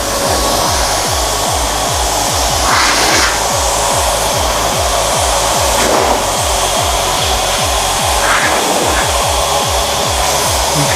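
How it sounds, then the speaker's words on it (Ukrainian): A heat gun blasts hot air on a BMW E21 turbo project car, a loud continuous roaring blow with rapid rhythmic fluttering pulses underneath, close and unbroken for the whole stretch without talking. "Обдув повітря автофен."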